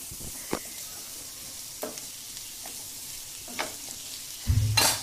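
Turmeric and onion-garlic masala sauté in oil in a pan for kurdai bhaji, a low, even sizzle broken by a few sharp spoon scrapes and taps, quiet and close, with no talking.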